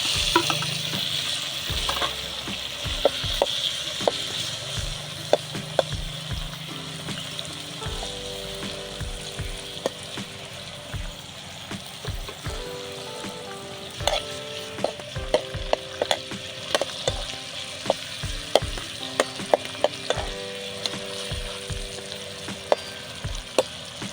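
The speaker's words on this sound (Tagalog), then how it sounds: "Pwede na natin i-mix yung bawang at sibuyas." Tomatoes, garlic and onion sizzle in a pan while being stirred, with steady frying hiss and repeated scraping and clicking of a utensil against the pan, close up and without talk.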